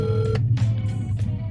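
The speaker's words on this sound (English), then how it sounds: "We also tried to reach the woman by phone." Telephone keypad tones beep briefly as a number is dialed, one long tone followed by a few short ones, clear and close over a low steady hum.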